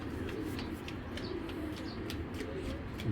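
A big red checker racing pigeon, a hen, coos softly in a loft, repeated low throaty calls over a murmuring background of other birds.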